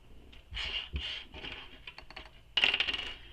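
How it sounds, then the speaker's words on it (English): Several short bursts of scissors snipping through fabric, crisp and close, with brief pauses between cuts and a louder final snip. "I'm just using my scissors."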